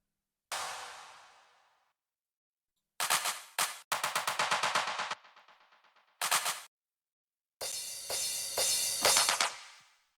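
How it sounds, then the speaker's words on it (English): Electronic music drum fills for a breakdown: loud bursts of rapid snare-like rolls and hits in several separate phrases, separated by silence, with a long decaying crash at the start and no voices. "Other small part here, some drum fills."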